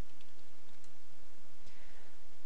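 Keys tapped on a computer keyboard while entering LaTeX code, a quiet stream of light, irregular clicks over a soft background hiss.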